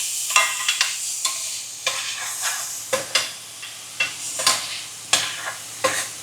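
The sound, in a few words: vegetables sauteing in a pan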